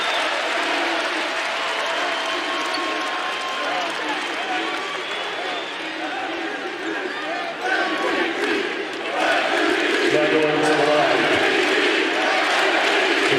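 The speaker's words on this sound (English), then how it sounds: "The crowd recognizes what's happening here." Crowd at an NBA game between the Dallas Mavericks and Sacramento Kings, applauding and cheering an injured player, a broad sustained roar of clapping that swells near the end, with commentators talking over it.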